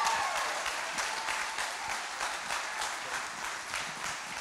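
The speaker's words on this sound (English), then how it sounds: "show a nice, warm, rowdy clap, shout, stand up, whatever works for you" A church congregation applauds steadily to welcome a pastor, a dense, sustained roar of clapping from a large crowd that stays loud throughout without letting up.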